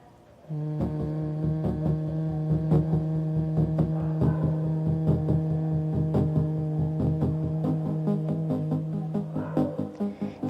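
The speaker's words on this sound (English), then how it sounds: "we'll be focused on a different type of pranayama. It's humming." A sustained, resonant humming exhale during bhramari pranayama breathing in a yoga class, steady and close with slight pulsing, set against a faint harmonic background and unaccompanied by speech.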